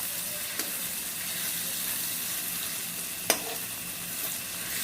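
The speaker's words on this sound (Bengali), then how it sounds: "আগে রসুন দেবো, কারণ রসুনের ভুনাইটাও ফ্লেভারে হেল্প করে।" Garlic sizzles and fries in a pan with tomato and water for a beef curry, a steady soft hiss with a couple of sharp stirring clinks.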